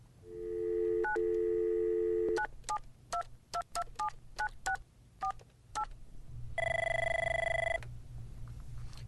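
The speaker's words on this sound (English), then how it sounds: "I had to add the sound effects of dialing, ringing, and the occasional over-the-line caller's voice to the live soundtrack" Telephone sound effects: a steady dial tone, then a run of quick keypad tones dialed in an uneven rhythm, followed by a loud ringing tone near the end.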